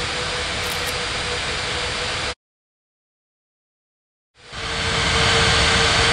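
Airliner engines roaring during takeoff in the air traffic control video game Unmatched Air Traffic Control, set at Bali; a loud steady broadband rumble cuts out to two seconds of silence, then swells back up.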